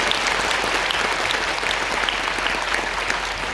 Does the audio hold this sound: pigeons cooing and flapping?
no